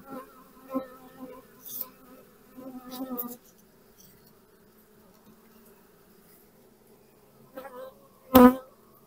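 Honey bees buzz in an opened beehive during a queen change, a steady low hum broken by a few louder bursts as individual bees fly close, with one loud near pass at the end and no talk.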